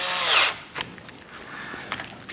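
A power drill driving screws into a Vizio TV at the AC power connection, with a short loud whirring burst at the start followed by faint clicks and handling noise.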